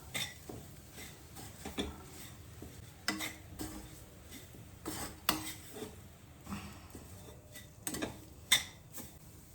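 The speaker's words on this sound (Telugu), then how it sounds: "ఇప్పుడు దీన్ని మంచిగా కలిపేస్తాను ఇట్లా" Spoon stirring a gram flour mixture in a container, with repeated soft scraping and clinking strokes in an irregular rhythm, close and fairly quiet, with no talking.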